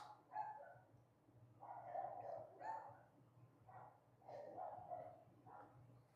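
Several dogs bark in the distance in short, spaced bursts, faint and somewhat muffled, over a low steady hum, with no talking.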